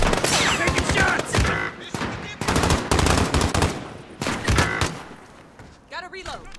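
Automatic weapon fire in Call of Duty: Modern Warfare rattles out in loud, close bursts, several rapid volleys broken by short pauses, ending in a brief lull.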